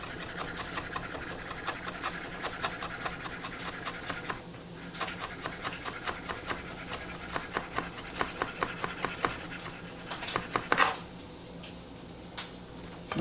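A knife chops through a rolled, tucked bunch of fresh herbs on a wooden board, giving rapid, steady, close-up taps with a brief pause partway through before the chopping resumes.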